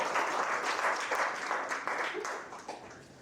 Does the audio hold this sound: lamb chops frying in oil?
no